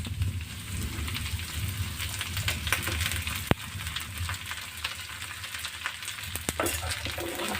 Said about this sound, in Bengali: আবার একটু খুন্তি দিয়ে নেড়ে নেব। সুন্দর করে পেঁয়াজের সাথে মাখিয়ে নেব।